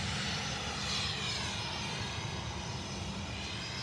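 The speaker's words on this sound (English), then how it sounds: "Oh, he's surging it. Taxiing fast." A Lufthansa Mitsubishi CRJ regional jet taxis quickly at Manchester Airport, its engines surging in a steady, broad roar with a rising whine, heard from a moderate distance and without voices.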